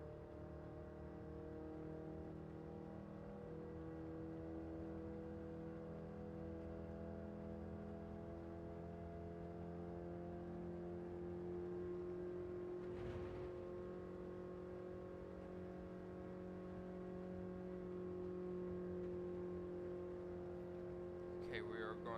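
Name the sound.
Toyota van engine straining in Gran Turismo 7 video game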